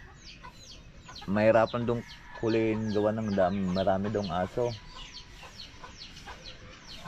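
A chicken that got into a neighbouring compound clucks in short repeated bursts in the background, while someone speaks loudly over it.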